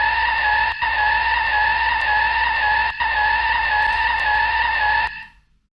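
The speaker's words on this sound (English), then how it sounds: "we need a looping sound for the tire skid" Looping tire skid sound effect made for a Chaos Vehicles setup in Unreal Engine 5: a steady, loud, tonal screech held for about five seconds with two brief dips, then a quick fade to silence.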